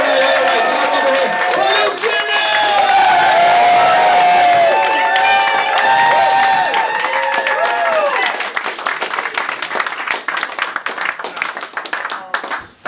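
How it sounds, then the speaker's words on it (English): A comedy club crowd at a stand-up show claps, cheers and whoops loudly and continuously, the dense applause thinning into scattered claps toward the end. "please go fucking nuts, race the room, keep on clapping all the way from the back,"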